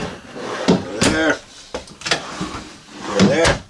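Drawers in an RV sliding open and shut a few times in quick succession, close by, while a person talks over them.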